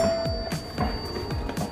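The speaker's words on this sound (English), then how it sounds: "There was someone at the door who was ringing the bell." A doorbell rings at home, sounding as a series of repeated chiming tones about every quarter second. It is fairly loud and close, and no one speaks.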